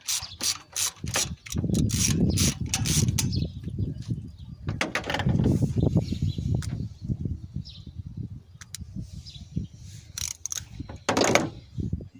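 Socket wrench ratcheting on a ground bolt being removed from a 1995/96 GMC engine during an intake job. Close, loud bursts of rapid ratchet clicks with short pauses between them, and no talking.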